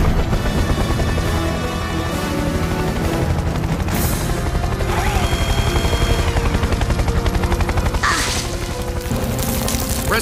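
A cartoon rescue helicopter lifts off for an airlift, its rotor noise running loud and steady under a busy musical score with sharp whooshes and impacts.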